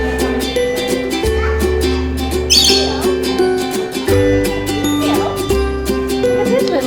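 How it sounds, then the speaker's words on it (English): Parrots squawk at a family day-out park, harsh calls rising now and then over steady background music and chatter, with people talking nearby throughout. "Look at those parrots."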